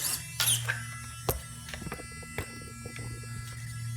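Savox 1210 servo in a TRX4 crawler hums and buzzes faintly while pushed down under load, a low electrical whine with a few sharp clicks and squeaks, close and quiet.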